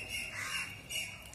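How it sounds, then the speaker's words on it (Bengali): Crows and cuckoos call outdoors, with a couple of brief, fairly faint caws and squawks rising over quiet background air. "কোকিল কাক সব ডাকাডাকি করছে।"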